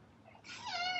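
A hungry house cat meows, one rising, drawn-out call that swells from a soft start into a loud, close, harmonic cry, with no talking.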